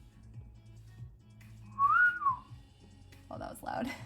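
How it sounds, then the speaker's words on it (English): A person gives one clear, loud whistled note that rises and falls over about a second, with quiet room sound before it and brief talk-like noise afterward. "I didn't think I could whistle that well"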